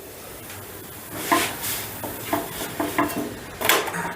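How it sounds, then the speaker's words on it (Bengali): Pea-stuffed paratha being flipped and dry-fried in a pan, with a few soft scraping and tapping clicks of a spatula against the pan, fairly close, with no talking. "দেখো একটা পিঠ ভাজা হয়ে গেছে, এবার উল্টে দিলাম"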